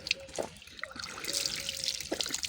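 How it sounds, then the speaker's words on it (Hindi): Water trickles from the tap of a drinking water cooler, a thin running stream with a few sharper splashes, close by and steady through the short moment, with no talk over it. "Yes now I can show you पानी पीते हुए।"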